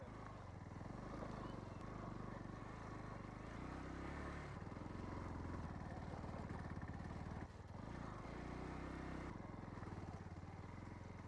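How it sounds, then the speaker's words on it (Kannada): A motor vehicle rumbles steadily along a jungle trail near Nishane Gudda, its engine droning close by for the whole stretch with faint voices underneath. "ಗಾಡಿ ಕಣ"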